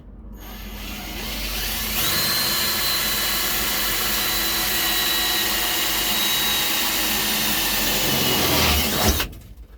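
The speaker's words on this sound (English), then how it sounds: "I should do a pilot hole." A power drill bores a pilot hole while a dual gun rack is fitted into the cab of a 1973 AM General M35A2 military truck, running as one loud, steady whine for about seven seconds before cutting off, with no talk.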